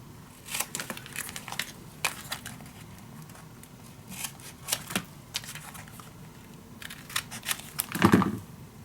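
Scissors cutting and handling Fleur design papers for a vintage winter mini album, heard as faint, close crisp snips and paper crinkles scattered through the stretch, with a slightly louder rustle near the end.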